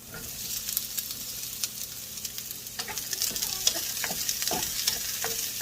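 Zucchini stir-fries in a pan for Chinese-style fried rice, a soft continuous sizzle broken by frequent quick clicks and scrapes of a spatula tossing the pieces, close-up and moderately quiet.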